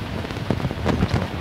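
Rain falling steadily on a chicken coop, a dense close patter with a few heavier drops and low rumbling mixed in.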